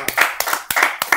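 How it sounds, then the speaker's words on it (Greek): A small group of people applaud, with several sharp, close hand claps in quick irregular succession over about a second. "Παιδιά, ένα χειροκρότημα."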